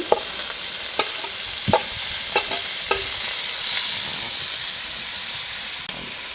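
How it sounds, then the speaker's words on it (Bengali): Pointed gourd peels fry in hot oil with a steady close sizzle and hiss, broken by occasional sharp crackles and spoon scrapes as they are stirred, no voices. "এখন আমি হচ্ছে পটলের চোচাটা ভেজে নিব এই তেলের মধ্যে"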